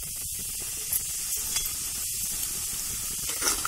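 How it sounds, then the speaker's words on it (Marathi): Kolhapuri red chili masala hisses and sizzles in hot oil in a kadhai over a wood-fired chulha, with a few soft scraping stirs breaking the steady frying noise. "हे सगळं तेलात हलवून घे"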